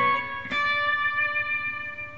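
A guitar plays the closing phrase of Canon in D, ending on a D. A few plucked notes ring out and sustain as one held, slightly processed chord that fades slowly, with no voices.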